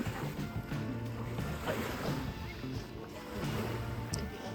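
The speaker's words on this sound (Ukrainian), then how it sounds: "І ось вона морська водичка." Seawater washes in at a wide sandy beach in Naples, Italy: a continuous close rush of waves and surf, loud and steady throughout.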